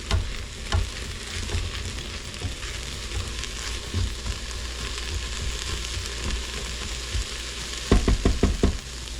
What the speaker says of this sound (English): so I'm going to throw in the garlic. We're gonna cook that with the veggies here for about another minute